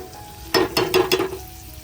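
Chicken liver (kaleji) is sautéed in a pan with about four quick, close scraping stirs over a soft sizzle, after a quiet moment.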